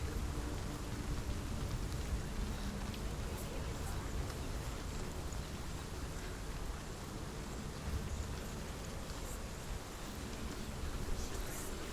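Steady rain pours down in Hellblade: Senua's Sacrifice, a dense, even hiss that holds at a constant level throughout, with no pauses or breaks.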